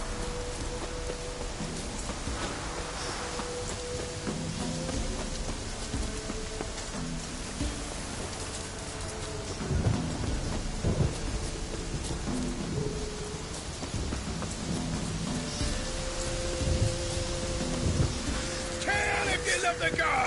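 Steady rain hisses throughout with occasional low rumbles of thunder, a dense wash of noise with voices talking over it at times.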